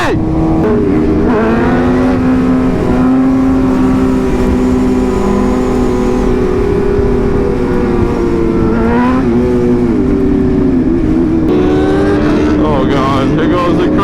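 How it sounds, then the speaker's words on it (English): Motorcycles on a highway group ride rev hard through power wheelies, engines climbing and falling in pitch, loud and close, with wind rush throughout. "Here goes the crazy wheelies. No! The 200-mile-an-hour power wheelies."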